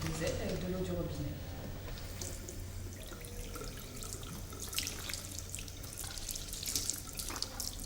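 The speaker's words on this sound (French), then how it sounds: "pouvez rincer votre petite dosette avec de l'eau du robinet" Tap water runs steadily into a sink to rinse a small dosing cup, a continuous splashing hiss that lasts throughout while people talk nearby.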